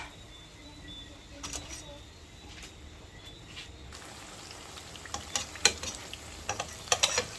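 Saltfish and bell pepper fritters fry in a pan with a soft steady sizzle, broken by scattered clicks and scrapes from turning them, quiet and close, with occasional speech.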